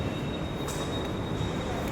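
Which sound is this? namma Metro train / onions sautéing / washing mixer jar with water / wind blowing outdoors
namma Metro train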